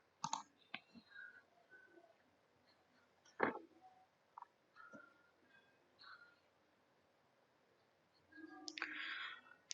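Sharp mouse clicks on a computer, a handful of separate taps spread across the stretch, close and quiet, with a louder burst of clicking near the end and no talking.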